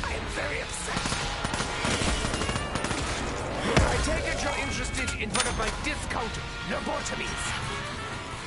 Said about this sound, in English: SMG really should stand for smallest magazine gun, considering how quickly they expire